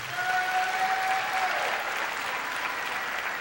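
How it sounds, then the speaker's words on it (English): Audience applause for graduates at a commencement ceremony, steady dense clapping throughout that fades slightly toward the end, with a faint whistle-like tone early on. "One more round of applause for them."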